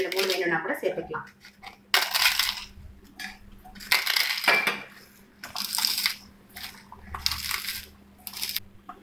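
Crisp papad (pappadum) is snapped and crushed into pieces by hand, giving repeated short crackling bursts close up, with a voice speaking quietly between the breaks.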